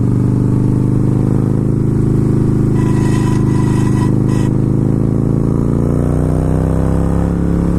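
Harley-Davidson Fat Boy S motorcycle riding, its loud steady V-twin rumble close up with engine pitch slowly rising and falling through a corner, plus a brief metallic scraping sound partway through.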